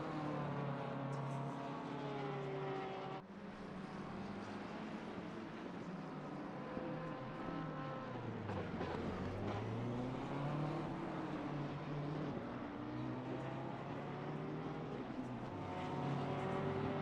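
Race cars lapping the Donington circuit during a qualifying session, engines droning steadily with overlapping pitch sweeps as cars pass, a continuous loud track din throughout.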